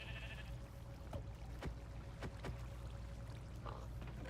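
Sheep bleating in a video game, faint and distant, with a few short bleats over a quiet ambient background.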